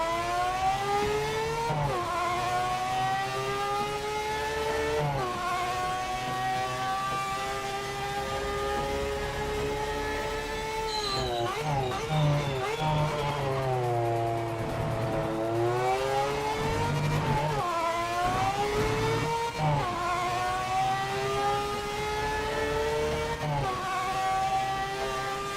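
Race car engine in Project Motor Racing, loud and close, revving up through rising pitch sweeps with repeated shifts and a deep dip mid-run, continuous with no talk.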